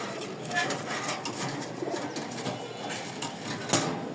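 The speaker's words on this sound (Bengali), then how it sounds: "খুব সুন্দর উড়াবাজির একটা কবুতর।" Pigeons cooing softly and repeatedly in a busy loft, low, steady calls close by under general background noise, with a brief rustle near the end.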